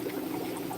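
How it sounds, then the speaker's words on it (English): Conditioned, unchlorinated water poured into a 1 liter plastic bottle, a steady continuous splashing pour filling the whole moment, close and even, with no voices. "It's a 1 liter plastic bottle, and I'm going to pour water in it."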